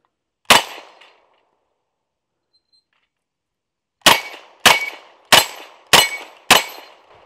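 An M1 Thompson submachine gun fires at targets outdoors: one loud sharp shot, a long silent pause, then five evenly spaced shots, each with a brief ringing metallic tail.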